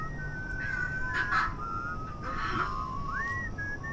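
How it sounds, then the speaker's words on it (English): Several guards in the video game We Happy Few whistle together in unison, a thin wavering tune with sliding notes over a low steady background hum, heard without any talk. "one of the coppers whistling as he's walking past"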